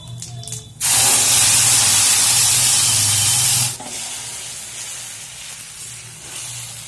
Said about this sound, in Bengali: মশলাটা আমার 1 মিনিটের মতো ভাজা হয়ে গেছে